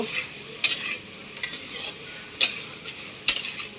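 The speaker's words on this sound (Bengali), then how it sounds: "এবার মাছটাকে দিয়ে দিব এর মধ্যে। একটু হালকা কষে নেব।" Small lime fish frying in a pan are stirred, with three or four sharp scraping strokes standing out over a soft steady sizzle, close and without talking.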